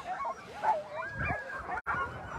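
Sled dogs at a race start in Alaska bark and yip in a busy, overlapping chorus, moderately close, with some whimpering mixed in.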